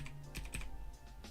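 Computer keyboard typing during a livestream, a few crisp key clicks landing close together in a brief, irregular burst, quiet and close with no talking.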